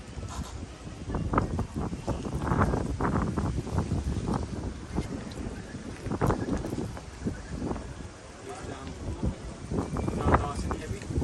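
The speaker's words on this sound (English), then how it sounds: "Good old wind is going bonkers." Strong wind buffets outdoors at a pressure washing and line marking job site, a continuous loud rushing roar with gusts across the whole stretch, heavy and close on the microphone.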